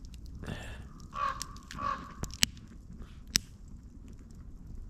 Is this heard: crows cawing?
yes